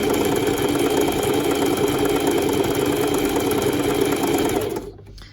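A sewing machine stitches a silky midi skirt in a loud, steady, close-up whir that runs without a break and then winds down and stops just before the end.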